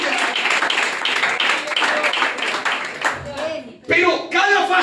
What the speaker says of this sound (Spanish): Den el aplauso, den la gloria a ese Dios